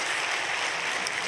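Steady applause from a church congregation during a Sunday worship service, an even wash of clapping with no breaks, filling the space throughout the short stretch.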